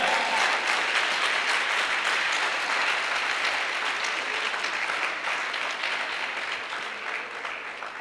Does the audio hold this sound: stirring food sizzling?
no